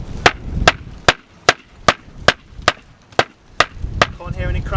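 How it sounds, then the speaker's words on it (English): A hammer strikes a wooden pallet in about ten sharp, evenly spaced knocks, each cracking loud and close, with a voice speaking briefly at the end. "So you can hit it with a hammer."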